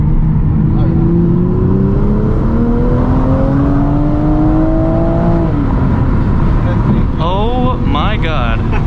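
A 2020 Toyota Supra accelerates hard, its engine note rising through the gears under heavy, loud road and wind roar, followed by quick rising and falling revs near the end.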